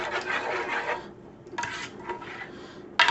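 Sloppy joe sauce being stirred in a pot, a few rasping scrapes of a spoon against the pot in short strokes with brief pauses, close by and without talk.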